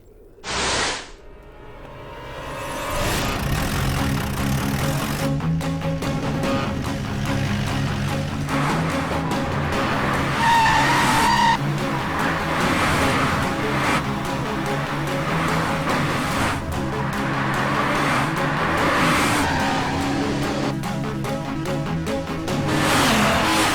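Several cars race in at high speed with tyres skidding and squealing, engine roar and whooshing filling a loud, busy scene that carries on without a break under dramatic film music.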